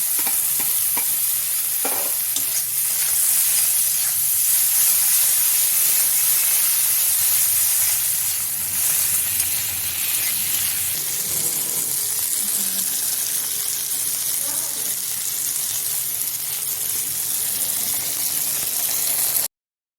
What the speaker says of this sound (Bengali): পেঁয়াজও ভাজা হয়ে গেছে, দেখুন দিয়ে দিচ্ছি কেটে রাখা টমেটো।